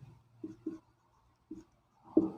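Chalk or marker writing on a board during a chemistry lesson: a few short, faint scratchy strokes in quick pairs, separated by quiet gaps, with a slightly longer stroke at the end.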